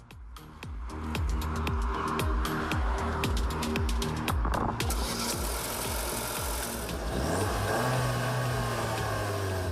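A sports car engine revs up toward 6,000 RPM and holds a loud, strained roar, rising in pitch before settling into a sustained high drone.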